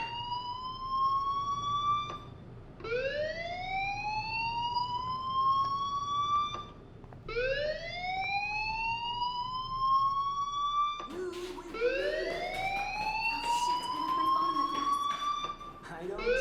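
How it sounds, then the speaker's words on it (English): An electronic fire alarm wails inside a school setting in the video game Life is Strange, sounding loud repeated rising sweeps that each climb and hold for a few seconds, with a person talking over the later part. "do you hear that fire alarm? That means you should be outside."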